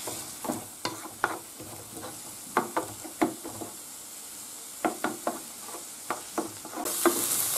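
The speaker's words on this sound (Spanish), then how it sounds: "Echamos el ajo también. Y lo dejamos sofriendo." Garlic and onion sautéing in a pan for a Gandia-style fideuà, a soft close sizzle punctuated by repeated sharp knocks and scrapes of a stirring utensil.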